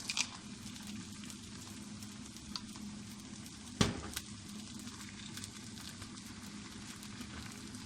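Onions and peas fry in a pan for a Chinese-style rice dish, giving a steady, fairly faint sizzle throughout with a brief louder clatter near the middle.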